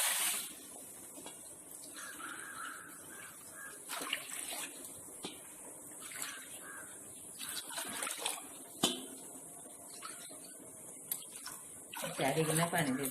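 Water is poured onto about 400 grams of sugar to make syrup for Diwali rasmalai, a light trickling and splashing heard under steady talk in a home kitchen.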